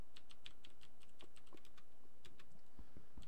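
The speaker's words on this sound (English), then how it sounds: "I want to get a quieter keyboard, but I like the mechanical keyboards. I just like that click sound" Clicky keystrokes on a mechanical computer keyboard, a quick irregular run of sharp taps at close range, fairly soft, with no talking.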